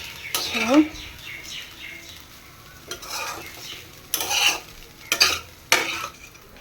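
Leftover food being reheated in a pan, with a spoon scraping and stirring in short bursts over a faint sizzle while someone talks quietly nearby.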